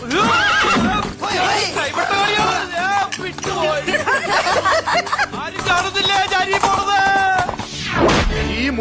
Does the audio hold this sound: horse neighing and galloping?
yes